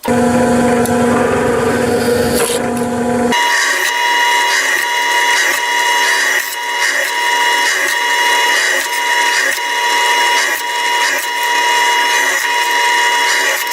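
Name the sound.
drilling holes with a drill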